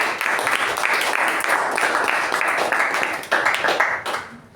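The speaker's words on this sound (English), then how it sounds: "let's give a huge round of applause for the speaker and the evaluator" Clapping from the audience for the speaker and evaluator at a Toastmasters meeting, a steady crowd round of hand claps for several seconds that thins and fades toward the end.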